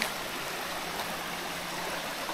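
Water rushes steadily in a fast-flowing stream, a constant broad hiss and roar with no pauses.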